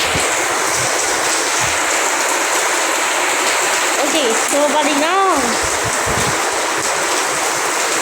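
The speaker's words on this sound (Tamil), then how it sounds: "மழை வந்து எப்படி பெய்யுது இந்த இடத்த பார்த்தாலும் தெரியும்." Heavy rain pours down in Guduvanchery in a loud, unbroken roar of splashing water, while a person speaks over it briefly.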